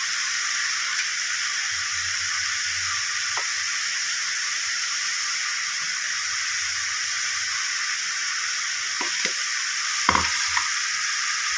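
Cucumber sautéing in a pan for a cucumber mor kulambu gives a steady, moderately loud broadband sizzle with a faint low hum. A few brief stirring clinks come near the end, and no one speaks.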